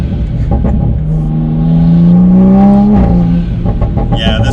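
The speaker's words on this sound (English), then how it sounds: "It's like as soon as you touch the gas, it's like already accelerating." A Toyota Supra A90 fitted with a Pedal Commander throttle controller accelerates in second gear, its engine note climbing steadily in a loud, close, continuous rising drone that eases off near the end.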